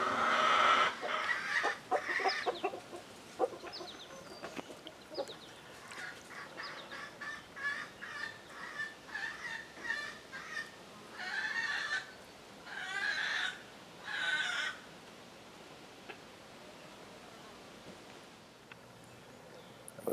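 Free-ranging chickens cluck and call at close range, with a naked neck silky rooster among them; a busy run of squawks and honking calls comes in bursts over the first fifteen seconds, then settles into quieter rustling.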